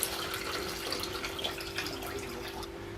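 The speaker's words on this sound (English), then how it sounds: "So once you open the radiator cap, all your coolant comes out." Coolant pouring out of a KTM 300 dirt bike radiator with the cap off, a steady close liquid gush and splatter running continuously without a break, over a faint constant hum.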